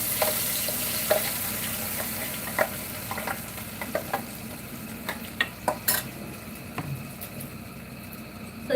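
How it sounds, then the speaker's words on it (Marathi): Food sizzles steadily after being dropped into hot oil, with a broad frying hiss throughout, punctuated by scattered clinks and scrapes of a utensil stirring in the pan, close and moderately loud with no talking. "तर आता हे ना मी तेलात सोडते."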